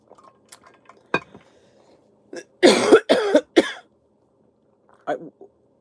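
Coughing from a tickle in the throat: a few short harsh coughs in a quick cluster, close and fairly loud, with faint clinks and quiet sounds around them.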